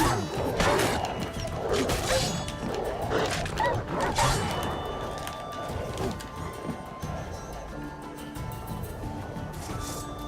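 Wild dogs attack in The Witcher 3 video game, with loud barking, snarling and crashing combat hits running continuously through the clip, busy and close.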